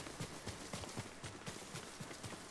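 In the video game Ghost of Tsushima, a horse gallops with a fast, even rhythm of hoofbeats, each thud sharp and close, repeating steadily for the whole stretch with no speech on top.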